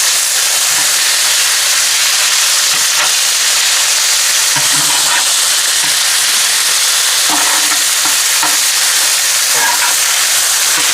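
Pork chops fry in a cast-iron-style skillet, Southern style, giving a steady loud sizzle and hiss throughout, with occasional soft clinks and shifts as the meat is handled.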